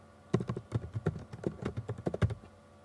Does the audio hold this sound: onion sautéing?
no